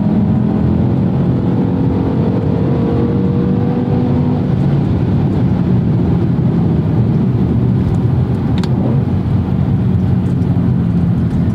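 A 2007 BMW M5 E60 with its V10 engine drives steadily, a continuous loud engine drone with throttle-blipped downshifts blending into road and wind noise throughout.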